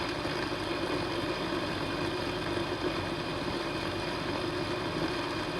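A Vitamix blender runs steadily on low speed while churning peanuts into peanut butter in a 20 oz cup, giving a constant, even motor drone with no breaks or talking.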